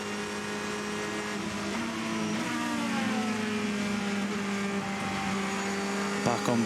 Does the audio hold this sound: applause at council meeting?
no